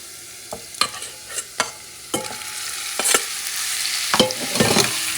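Beef fries in a pan for a spicy stew, hissing and crackling steadily while several sharp scraping and clattering stirring strokes ring out near and loud.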